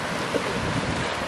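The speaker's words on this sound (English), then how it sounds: "It's a bit windy down here, isn't it" Steady wind roars across the microphone for a brief moment, dense and unbroken.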